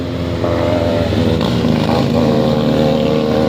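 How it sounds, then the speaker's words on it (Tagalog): A motorcycle engine drones steadily up close, its rumble holding loud and even with a slight rise in pitch partway through. "Iyan ang motor."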